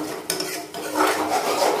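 A spatula stirs and scrapes mustard and poppy-seed spice paste around a pan, giving a few distinct scraping strokes over a soft, low sizzle.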